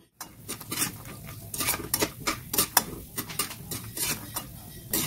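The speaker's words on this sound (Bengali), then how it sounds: "বাদামটা আমি এবারে তেলে নেড়ে নেড়ে ভেজে নেব।" Raw peanuts being stirred while frying in hot oil in a pan, with rhythmic metallic scraping and clattering strokes over a crackling sizzle, close and fairly loud, no speech.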